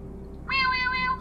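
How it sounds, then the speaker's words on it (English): An Instax Pal camera plays a short electronic meowing cat sound, a single bright tonal meow lasting under a second over a low steady room hum. "I'm just syncing it to the Instax PAL. Check this out. Meow, meow, meow. Did you hear that?"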